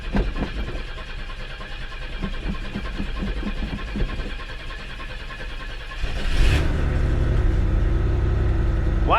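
A Chevy S10's carbureted 2.8 engine cold starts: several seconds of rhythmic starter cranking, then it catches with a sudden rise to a steady, rough idle, close and with no talk.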